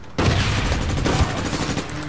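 Shotgun fire in the online shooter APB Reloaded, a dense, loud burst of gunshots and game noise starting abruptly and continuing for about two seconds with no pause.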